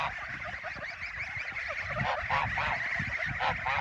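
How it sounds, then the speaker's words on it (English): Mama Goose, the largest goose on a Russian goose farm, honks repeatedly in loud nasal calls over a steady outdoor background of other fowl, with faint voices in the distance. "So that was Mama Goose."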